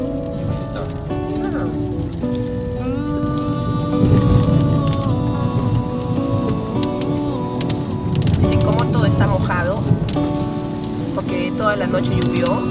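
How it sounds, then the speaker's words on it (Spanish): Steady rain falls all through the night and keeps pouring in the hilltop town of Gerace, Italy, a dense continuous patter with tonal sounds and faint voices running underneath. "Toda la noche llovió y sigue lloviendo."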